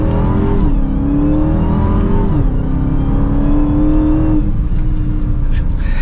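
A 2022 Dodge Charger SRT Hellcat Widebody pulls hard in first gear, its supercharged exhaust climbing in loud, sustained rising revs with brief dips at each shift, heard close from inside the car.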